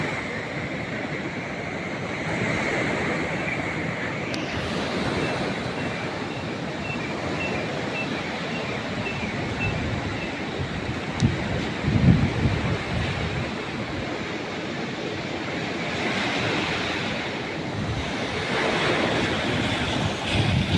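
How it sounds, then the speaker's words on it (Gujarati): Water waves wash and splash continuously nearby, mixed with gusty wind rumbling across the microphone, with no voices. "પાણી પણ અત્યારે બહુ મોજા મારે છે"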